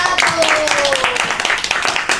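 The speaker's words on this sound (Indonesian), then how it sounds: "Oke, tepuk tangan untuk kelompok" A class applauding a student group after its presentation, a short burst of scattered hand clapping from a small room of people mixed with a few voices.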